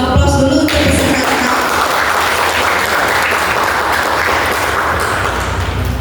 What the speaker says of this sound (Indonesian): Aplaus dulu untuk peserta.